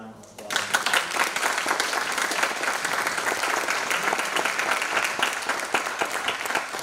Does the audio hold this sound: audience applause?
yes